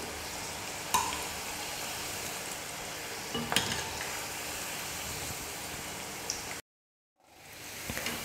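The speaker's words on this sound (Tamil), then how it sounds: "லைட்டாக அப்பப்போ திருப்பி கொடுத்துட்டே இருங்க, அப்போ தான் எல்லா பக்கமும் நல்லா வெந்து கலர் வரும்." Egg snack batter deep-fries in hot oil with a dense, even crackling sizzle and a few sharp pops as pieces are turned. The sound cuts out briefly near the end, then the frying returns.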